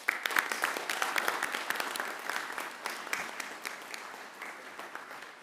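Audience at the Keuka College 2024 commencement applauding graduates, a dense, sustained wash of many hands clapping in a large hall that slowly tapers off.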